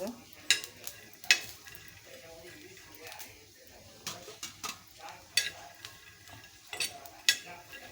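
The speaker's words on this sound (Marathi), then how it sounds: "शेंगदाणे पूर्ण असे भाजून झालेले आहेत मी आता प्लेटमध्ये काढून घेते बघा आवाज येतोय ना हे" Dry-roasted peanuts stirred in a pan, a rattling, scraping clatter that comes in repeated sharp bursts against a quiet background.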